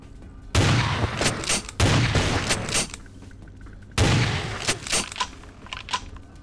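Shotgun blasts in the video game Vampire the Masquerade Bloodlines, The Final Nights mod: three loud, sharp booms spaced a couple of seconds apart, each trailed by rattling echoes and faint clicks.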